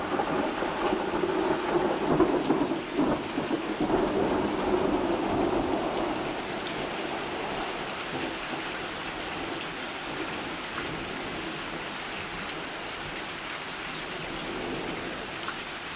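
Heavy rain pours down in a thunderstorm, with a broad, steady hiss of drops hitting surfaces. Deep rumbles of thunder swell during the first few seconds, then the downpour carries on alone.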